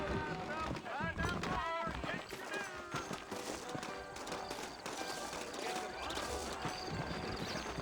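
Horse hooves clip-clop at a steady pace in the Red Dead Redemption game, set in New Austin, close and clear, with character voices and game music layered over them.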